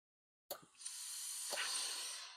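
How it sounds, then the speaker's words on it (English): A steam iron pressing a shirt lets out a sudden, sustained hiss of steam after a moment of silence, steady and close for about two seconds. "I think you need to give it a little bit more steam."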